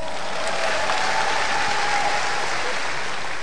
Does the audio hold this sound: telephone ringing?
no